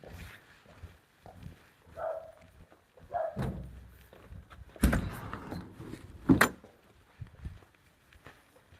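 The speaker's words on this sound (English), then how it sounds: "Sorry about the dogs." Dogs bark in scattered, moderately distant bursts around a quiet woodworking workshop, mixed with occasional thumps and footstep-like knocks.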